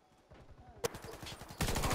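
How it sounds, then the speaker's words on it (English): Rapid gunfire from the shooter game Warface, a fast rattling burst of shots under low background noise, then a sharp crack and a louder, denser volley near the end. "This guy just shot me twice and I'm dead."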